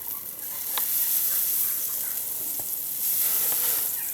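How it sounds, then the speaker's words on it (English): Freshly churned butter sizzles on a hot griddle pan with a steady close hiss and faint crackling, with no talk over it. "I'm just going to put a little bit of the butter that we churned on the griddle pan."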